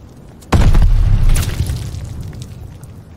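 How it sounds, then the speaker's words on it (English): A grenade goes off in Call of Duty: Vanguard during a hardcore Domination match on Berlin: one sudden, loud, close boom followed by a low rumbling decay, with no voices. "Grenade."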